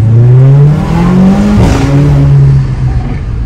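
A 2018 Mercedes GLA 45 AMG SUV in Sport Plus mode accelerates up a steep hill near Medellín, its engine drone rising steadily in pitch, briefly dipping at a gear change, then climbing again, loud and close with no talk.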